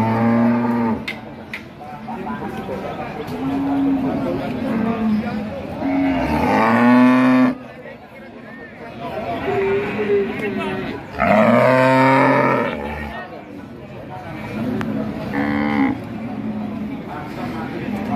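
A calf moos at Pasar Jatirogo livestock market, with several loud, drawn-out bellows rising over a busy crowd of voices, close by and repeating every few seconds.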